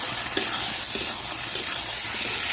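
Masala sautéing in a pan for a dish of unripe jackfruit and potato, with a loud, dense sizzle and repeated spatula strokes scraping through it at a steady pace.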